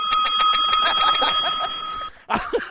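A bell rings in a rapid, continuous trill for about two seconds, bright and close, then stops abruptly as a voice briefly begins.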